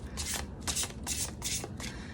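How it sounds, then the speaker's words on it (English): Tarot cards being shuffled by hand, five quick riffling bursts in an even rhythm, close and soft with no talk. "as I shuffle the cards"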